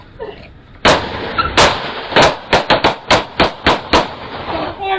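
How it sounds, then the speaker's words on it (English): Gunshots ring out during a police confrontation, about a dozen loud, close bangs in a rapid uneven burst, after faint voices at the start. "Shots fired!"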